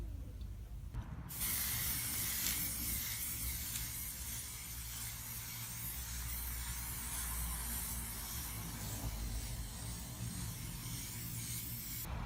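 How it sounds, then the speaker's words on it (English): A close, steady hiss of matte black spray paint from an aerosol can coating a display frame tray, continuous after a brief start, with no talking. "I'm going to give it its first coat of this matte black spray"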